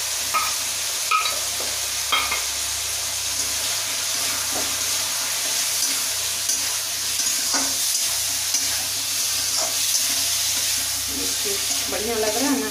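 Nenwa (sponge gourd) sabzi stir-fries in a pan, a constant close hiss and sizzle with frequent scraping stirs and light clinks, steady and fairly loud throughout.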